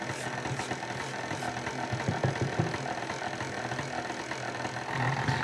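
An electric mixer kneads bread dough for toasted knafeh bread, a steady motor whir with a faint rattle, continuous and fairly loud throughout with no talk.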